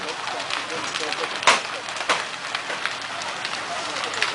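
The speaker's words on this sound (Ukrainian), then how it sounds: "Воно шипить, гаряче, чуєш?" Steady, noisy hissing of hot metal at a church fire, like water hitting hot metal, with a couple of sharp cracks partway through.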